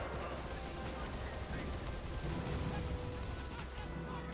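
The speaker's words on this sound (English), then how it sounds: "Where are these mortars? There they are." Mortar and gun fire in a video game rumble and crackle continuously at moderate loudness, with a voice talking over the din.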